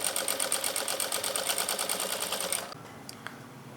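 Sewing machine stitching lace along the edge of a dupatta, a loud, steady rapid chatter for about two and a half seconds that stops abruptly, followed by a couple of faint clicks.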